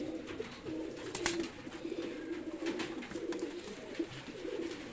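Soft, repeated pigeon coos murmur steadily throughout, close by, with faint rustling and a brief sharp click partway through; no talking.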